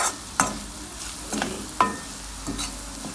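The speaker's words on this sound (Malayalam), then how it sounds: "നന്നായിട്ട് ഇളക്കി വരട്ടിയെടുത്തു" Turmeric, chili and cumin powder being stirred and roasted in a pan for a green gram dish, a low sizzle punctuated by four distinct scraping strokes of a spoon at roughly even intervals.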